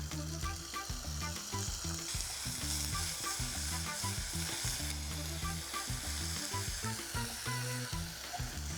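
Onion added to a pan where garlic is already browning, cooking for a mushroom risotto: a steady, close sizzle and crackle of frying runs throughout, with no one talking.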